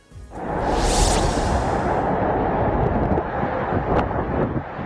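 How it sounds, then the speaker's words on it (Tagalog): Strong wind from Typhoon Julian in Batanes, Philippines roars and buffets steadily, with a brief high whistling gust near the start, loud and continuous throughout. "rinig na rin ang sipol ng malakas na hangin"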